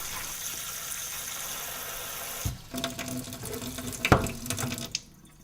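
Water pours steadily from a tap or watering can onto a tray of grown grass, a continuous gushing hiss that breaks into splashes and trickles before stopping.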